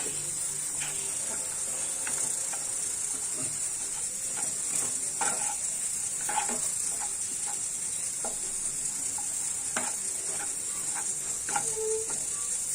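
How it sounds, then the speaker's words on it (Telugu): Motichoor laddu mixture dry-frying in a pan without oil, a steady soft sizzle with scattered scraping stirs from a spoon throughout. "ఈ విధంగా మనం అంటూ దీంట్లో ఉన్నటువంటి మాయిశ్చర్ మొత్తం పోయేంత వరకు ఫ్రై చేసుకోవాలి"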